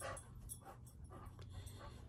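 A dog pants steadily close by, quick soft breaths in a continuous rhythm with a faint whimpery edge, with no talk over it.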